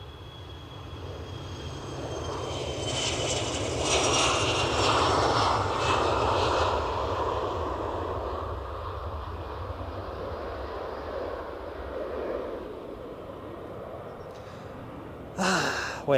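An aircraft on a long final approach to Edinburgh Airport drones steadily, swelling to a broad peak midway, then easing off as it passes. A brief sharper burst comes near the end.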